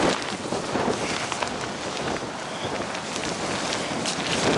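Strong wind roars steadily across an open beach at Cape Lookout during Hurricane Ophelia, buffeting the microphone with gusty rushing noise, blowing sand and no voices.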